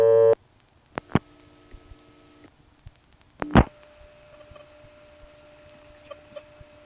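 A 1976 step-by-step telephone line in Colonial Beach, Virginia, being dialed to a local office: a tone cuts off, then sharp clicks and pulse bursts follow, with a faint steady hum and thin tones lingering in between.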